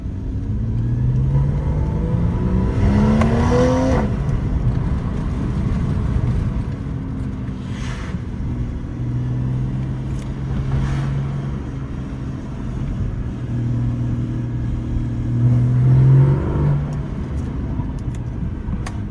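A Porsche Boxster with a 265 hp 2.7-litre flat-six and sport exhaust pulls away, its engine note rising and falling through several gear changes. The sound is loud and close, with no talking.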